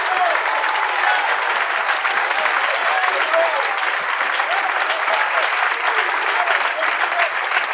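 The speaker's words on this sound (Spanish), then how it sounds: "denle un aplauso al rey porque lo merece." A large church congregation keeps up thick, continuous applause through a Spanish-language sermon, with a crowd murmur beneath it. The clapping stays dense and steady from start to finish.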